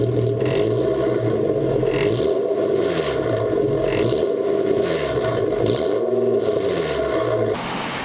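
A steady, throaty exhaust drone from an Infiniti G37 with a louder aftermarket dual exhaust rumbles continuously with rising and falling pitch sweeps, close and loud throughout.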